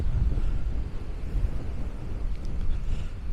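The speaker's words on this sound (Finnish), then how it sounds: "ne on luvannut koko päiväksi tämmöistä tuulta" Strong wind buffets the microphone at a lakeside campsite in Kristinehamn, a dense, constant low roar with gusty rumble and no speech, close and loud throughout.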